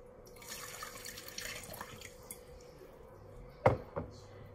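Hot water poured into a bowl while bread dough is being started: faint trickling and dripping from a tap, then one sharp splash and a smaller one near the end.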